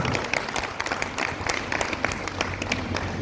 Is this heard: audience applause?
yes